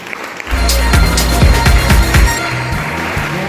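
Applause from an audience honouring meritorious students at a school's Dr. Babasaheb Ambedkar birth anniversary celebration, JNV Akkalkuwa, rising after a quiet half-second into steady, dense clapping that fades slightly toward the end.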